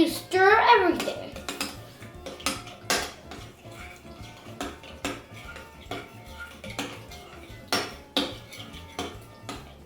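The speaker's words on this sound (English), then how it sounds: "And now you stir everything." A spoon scrapes and clinks against a bowl while homemade pizza sauce seasoned with salt and pepper is stirred nearby in irregular taps. Someone speaks briefly at the start.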